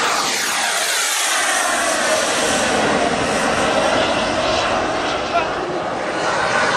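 A turbine-powered RC Scirocco jet model flies a display at the Jetpower fair, its engine a loud, continuous near roar with a sweeping whine as it passes.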